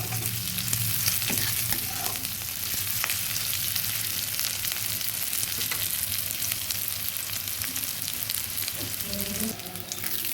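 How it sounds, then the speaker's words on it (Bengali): Onion and green chilli frying in oil in a wok, a steady loud sizzle that runs without a break the whole time, with occasional scraping stirs and no voices. "আমি কিছুটা তেল দিয়ে পেঁয়াজ আর কাঁচা লঙ্কা দিয়ে ভালো করে ভেজে নিচ্ছি"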